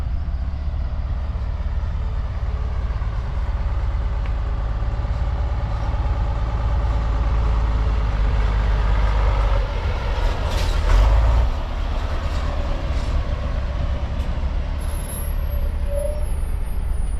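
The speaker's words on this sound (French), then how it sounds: "Un beau Saurer de l'armée suisse aussi." A Swiss army Saurer truck idles steadily nearby, a low continuous diesel rumble that swells briefly near the end, with no voices over it.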